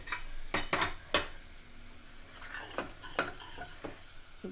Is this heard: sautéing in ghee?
yes